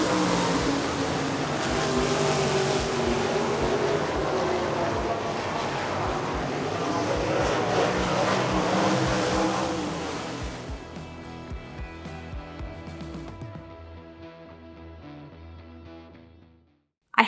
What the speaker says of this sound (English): I watched the sprint cars race around the track.